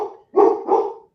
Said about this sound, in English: at least all your dogs are barking, Rick